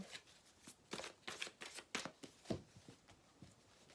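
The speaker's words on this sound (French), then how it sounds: "Alors j'aimerais prendre une carte du tarot." Tarot cards being shuffled close by, a quiet run of crisp riffling flutters and slaps in quick bursts.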